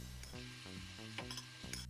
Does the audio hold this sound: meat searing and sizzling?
yes